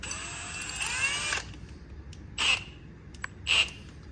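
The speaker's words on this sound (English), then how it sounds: "I use my drill." A power drill spins to clean valves from a GMC Acadia 3.6L cylinder head, a steady high whine for over a second, then two short, sharp bursts of grinding against the metal.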